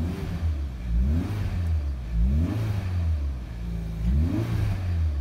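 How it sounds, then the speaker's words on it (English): A Lamborghini engine revs in three repeated rising pulls while the engine is still cold and held to about 3,000 RPM, with a turbo whine audible over the loud, steady engine roar and no voices. "But just listen to that turbo whine."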